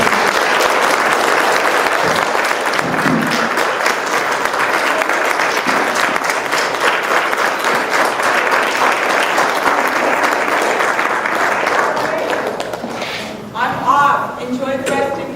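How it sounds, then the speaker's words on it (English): Sustained applause from a crowd, dense clapping for over ten seconds before tapering off, with a few voices and cheers at the end. "Can we all, one quick round of applause for Julie."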